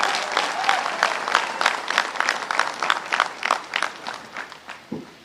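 Crowd clapping at a Kshatriya community rally in Bardoli, a dense burst of applause that fades over several seconds, followed by a brief low thump near the end.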